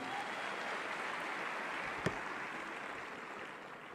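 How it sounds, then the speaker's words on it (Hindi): Applause from an auditorium audience at a formal gathering in Bokaro, a steady, fairly soft wash of many hands clapping together for the whole stretch, with one slightly louder clap standing out near the middle. "तालियां मेरे बड़े भैया के लिए।"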